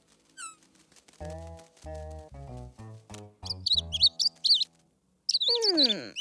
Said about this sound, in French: Je dois m'occuper du bébé oiseau.